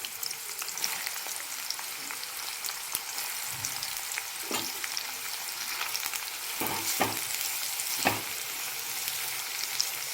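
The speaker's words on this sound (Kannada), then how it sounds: "ಇದಕ್ಕೆ ಈರುಳ್ಳಿನ ಹಾಕಿ ನಾನು ಚೆನ್ನಾಗಿ ಬ್ರೌನ್ ಕಲರ್ ಬರೋವರೆಗೂ ಫ್ರೈ ಮಾಡ್ಕೊಳ್ತೀನಿ." Onions fry in hot oil until brown for a chicken dum biryani, a soft continuous sizzle with a few light stirring knocks, fairly quiet and without voices.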